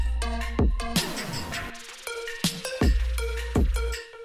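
An electronic beat whose transition drops both the kick and the first bass note, creating a brief skip before deep, falling bass hits and bright synth chords return in a steady pulse, with no talking.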